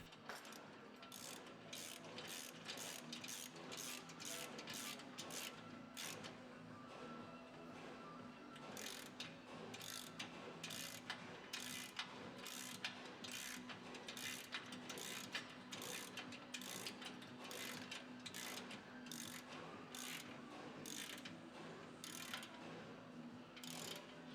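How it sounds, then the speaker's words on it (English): A ratchet clicks in quick regular bursts while nuts and bolts are tightened on a Toyota Hilux 150 Series suspension, the faint clatter repeating steadily throughout with no voices. "Use Loctite and tighten all nuts and bolts."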